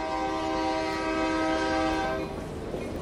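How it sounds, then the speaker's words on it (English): A train in a horror video game rushes past with a loud sustained horn-like tone over a rumbling roar, then the tone cuts off and the noise fades, with no talk. "Dude just jumped in front of that train."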